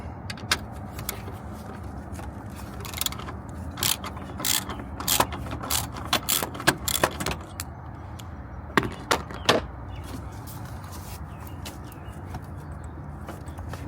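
A hand ratchet backs out the battery hold-down bolt on a 2016-2018 Chevrolet Silverado, making a series of quick clicking strokes in irregular bursts, close but fairly soft, with pauses between them.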